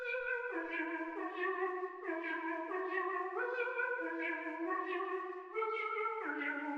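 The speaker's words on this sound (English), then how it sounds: "This is called the Bomb preset. This is also from Louis Flynn's Astro analog lab bank." Synth counter lead from the Bomb preset in Louis Flynn's Astro analog lab bank, playing a bright stepped melody of sustained gliding notes with echo, loud and alone.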